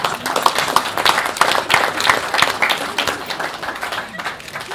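An audience at an airline aircraft order announcement claps in a lively burst of many overlapping hands, close and fairly loud, easing slightly toward the end.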